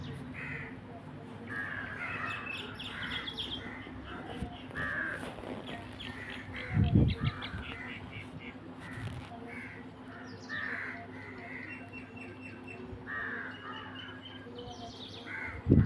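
Crows caw repeatedly from trees where a handful of birds perch, mixed with scattered chirps and other bird calls and a brief louder thump partway through, all over steady outdoor ambience.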